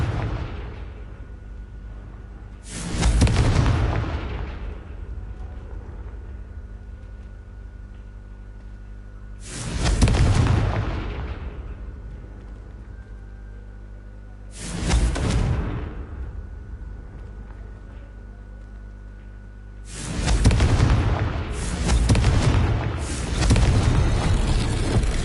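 Confringo fire spells blast in Hogwarts Legacy, five booming explosions arriving in bursts a few seconds apart, the last two close together, each ringing out over a low steady game ambience.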